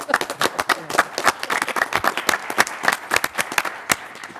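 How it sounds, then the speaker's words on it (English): A city council audience claps in a short burst of sharp, distinct handclaps, fairly close and irregular, with little talk over it. "The applause was for Ruthie."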